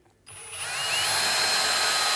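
After a short silence, a drill spins up and bores a 1/8 inch pilot hole, its whine rising and then holding steady and fairly loud close by.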